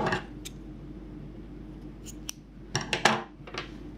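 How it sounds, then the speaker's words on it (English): Scissors snip through crochet yarn at close range, a few sharp crisp cuts bunched toward the end after a quieter stretch. "we can cut our yarn"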